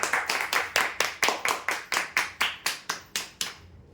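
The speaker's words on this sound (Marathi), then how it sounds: "जोरदार टाळ्या वगैरेसाठी" Several hands clap in a steady, even rhythm for lucky draw prize winners, roughly a dozen sharp claps close by that fade out at the end, with no talking.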